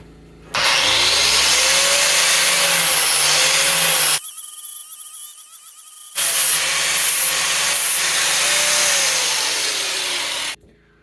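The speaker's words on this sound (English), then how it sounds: "that's about as far as I want to take it down with the angle grinder" An angle grinder works down a forged railroad-spike knife handle, a loud, close, harsh whine that cuts out for about two seconds, leaving a quieter rattle, then roars back at full pitch before stopping.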